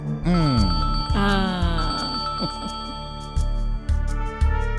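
A telephone ringtone plays a repeating electronic melody of bright tones, loud and close, with sliding pitches and recurring chime-like beats.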